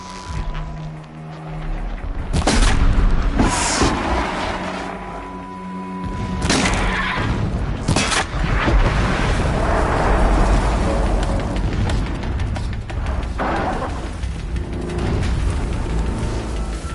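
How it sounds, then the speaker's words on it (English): Distant explosions in the video game Horizon Forbidden West: several heavy booms around two, six and eight seconds roll over a continuous rumbling ambience. "Explosions in the distance."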